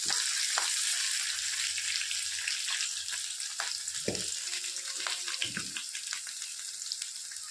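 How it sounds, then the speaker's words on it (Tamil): Crushed garlic and dried red chillies frying in hot oil with cumin and mustard seeds for a ridge gourd gravy, giving a steady loud sizzle with scattered crackles and pops throughout, with no talking. "இப்போ இடித்து வச்சுருக்க பூண்டும் காஞ்ச மிளகாவையும் போட்டுருங்க"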